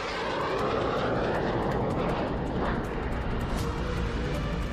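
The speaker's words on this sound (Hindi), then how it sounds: "ऐसे ही विमानों का इस्तेमाल पुतिन यूक्रेन पर भी कर चुके हैं और बाल्टिक इलाके में उनके ये विमान लगातार उड़ान भरते रहते हैं।" A Russian Tu-160 nuclear-capable strategic bomber flies past, its jet roar a steady, loud, broadband rumble that holds for several seconds with no voices.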